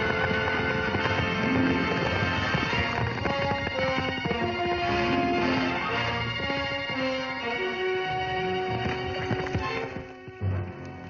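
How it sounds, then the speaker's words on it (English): Horse hooves clip-clop in a steady rhythm beneath a sustained musical score in a 1953 film, the clopping continuing throughout with brief pauses near the end. "It looks like Nancy's horse."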